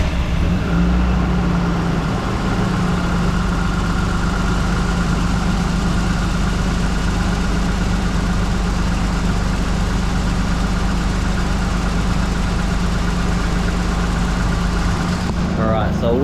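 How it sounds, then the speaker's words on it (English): A VL Commodore's RB30 engine idles with an exhaust leak from a loose rear manifold stud, giving a steady, loud, low rumble with a rough, ticking edge that continues without letup. "I'm going to take a wild guess and say that's my exhaust leak."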